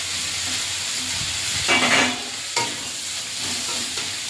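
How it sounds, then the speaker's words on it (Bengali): Cut eggplant and potato fry in oil in a kadai, a steady sizzle with a louder burst of hissing and scraping stirs midway, then continued frying. "এইবারে কেটে রাখা বেগুন আলুটা দিয়ে দেব।"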